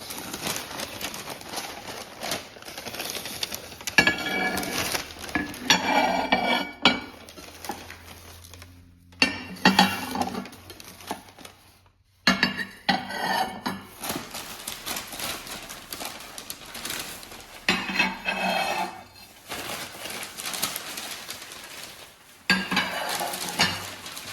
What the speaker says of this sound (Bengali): এই হচ্ছে ডিনার সেটের প্লেট